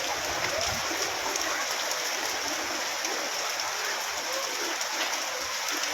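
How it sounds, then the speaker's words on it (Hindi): A heavy downpour with hail drums steadily on surfaces, a dense, continuous hiss of rain without pauses, loud and close, with no clear voices. "आज फिर बहुत ही ज़्यादा मूसलाधार बारिश लगभग आधे घंटे से चल रही है, साथ ही ओलावृष्टि चल रही है"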